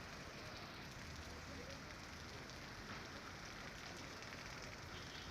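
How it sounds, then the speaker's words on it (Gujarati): Steady early-morning rain falling over Vapi, a dense, even hiss of drops on surfaces that holds constant and fairly close throughout, with no voices. "વાપીમાં પણ વરસાદ વરસી રહ્યો હતો"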